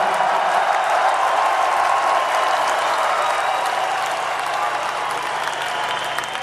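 A large crowd at a metal concert in a Bakersfield convention center gives sustained applause and cheering, a dense steady roar that fades slightly toward the end.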